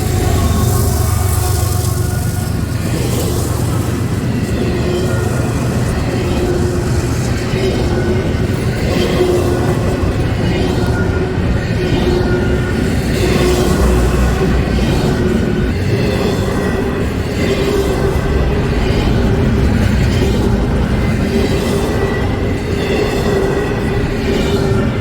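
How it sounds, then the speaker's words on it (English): A CSX freight train passes on the Nahunta Subdivision at the Folkston Funnel. Loud, close, steady rumbling and rolling wheel noise carry on without a break, with faint clicks and squeals. "3 trains in 30 minutes, back to back to back."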